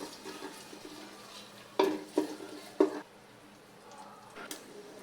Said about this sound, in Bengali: এখন দিয়ে দিব চারটা পেঁয়াজ কুচি